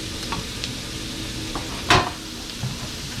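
Garlic sizzling in hot oil in a pan for chicken pad see ew, a steady close hiss with light stirring and one sharper scrape midway.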